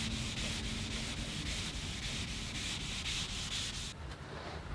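Rust being scrubbed off a cast iron tool surface, a steady close abrasive rubbing that runs continuously with rhythmic strokes and no talk.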